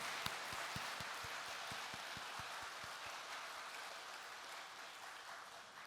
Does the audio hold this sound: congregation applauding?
yes